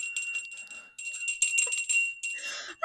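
A small bell rings with bright, sustained tones, struck or shaken in several bursts with short gaps, close and moderately quiet.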